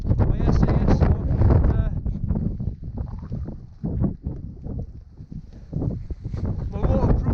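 Strong gusts buffet the microphone outdoors in the rainy Brecon Beacons, a loud continuous low rumble with someone talking over it throughout.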